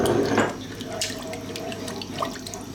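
Stock or broth being poured into a pot of chicken potato stew. A splashing liquid pour comes strongest at the start, then settles into a steady trickle with faint clinks, close by.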